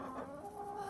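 A chicken clucks continuously in a steady, close-up stream of short calls with no talk over it.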